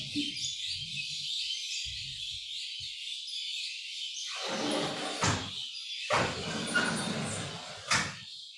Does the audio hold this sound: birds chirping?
yes